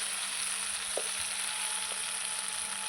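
Potatoes and spices being stir-fried in a pan, a steady close sizzle of hot oil with a couple of faint scrapes from stirring, no voices.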